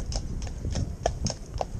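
Horse hooves walk at a steady, even pace, each step a distinct clip-clop close by, with no talking.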